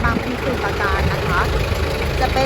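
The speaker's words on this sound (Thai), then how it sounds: "นี่นะคะเครื่องยนต์ดีเซลนะคะคันนี้" A Toyota 7FD25 diesel forklift idles with a steady low rumble and a constant high whine, while someone talks over it throughout.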